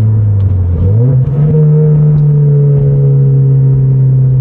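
A 2022 Toyota Corolla Hatch with full exhaust and an AMT stage 2 tune pulls hard in second gear from outside, loud droning engine note climbing steadily in pitch after a brief dip, close and sustained.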